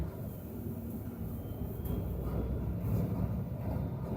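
A train climbing a hill, a continuous low rumble and rolling rail noise heard from a distance that grows gradually louder, with no speech.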